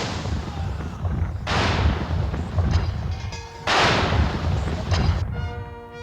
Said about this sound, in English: the Honourable Artillery Company is firing a 41-gun salute